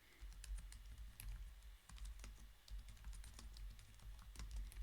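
Someone typing on a computer keyboard, quick irregular clicks and taps near the microphone, quiet and alone with no talking.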